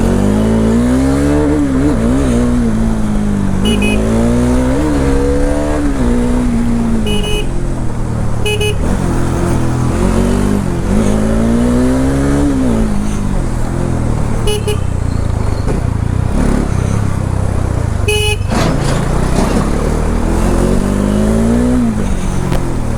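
A motor vehicle pulls away from a college and keeps driving, its engine loud and close with rising and falling revs throughout, wind noise and several short horn toots along the way.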